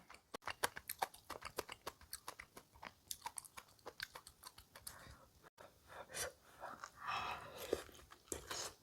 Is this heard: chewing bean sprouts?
yes